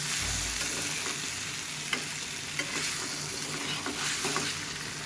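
Shrimp and sweet pumpkin cooking slowly in oil in a pan, a constant soft sizzle and crackle with a few light stirring taps, close and even throughout.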